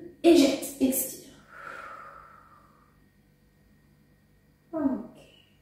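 Guided sophrology breathing exercise: a calm voice speaks briefly, then a long, soft exhale trails off into quiet, followed by another short spoken word.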